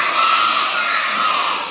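Many children shout and cheer together in a dense, sustained crowd roar, loud and continuous with no single voice standing out.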